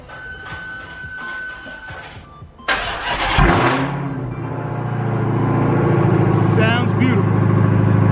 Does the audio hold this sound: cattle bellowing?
no